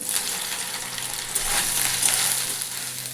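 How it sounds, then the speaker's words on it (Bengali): Soya chunks fry in mustard oil in a wok, giving a close, continuous bubbling sizzle that swells slightly midway through a short stretch without talk. "এই কড়াইটায় সয়াবিনগুলো ভেজে নেব।"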